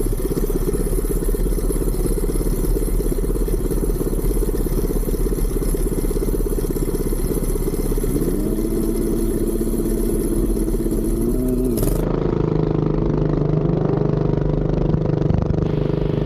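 A Coleman CT200 minibike fitted with a Duromax 208 engine runs steadily near the microphone through a drag race start, a loud continuous mechanical drone that shifts pitch and revs up in its final seconds, with no talking.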